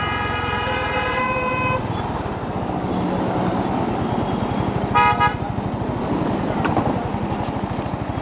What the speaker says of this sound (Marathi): खूप ट्रॅफिक आहे यार, खूप ट्रॅफिक आहे.